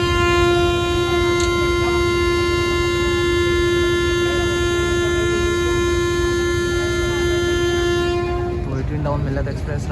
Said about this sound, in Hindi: डाउन मिल्लत एक्सप्रेस रवाना हो रही है लाला मूसा जंक्शन से 10:30 सुबह के